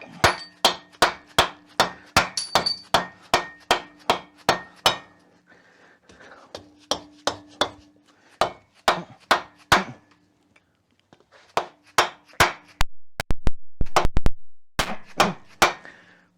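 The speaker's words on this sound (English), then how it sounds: "That's a dead blow hammer I got there." A dead blow hammer strikes seized VW Beetle engine parts in quick bursts of sharp, close thuds, a run of evenly spaced blows, a pause, then further irregular clusters of hits.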